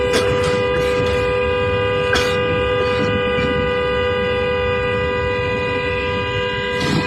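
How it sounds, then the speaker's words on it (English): A car horn is held down and honks in one long, steady, loud blare that runs unbroken for several seconds, with a few brief knocks over it. "this is her in this car honking the horn"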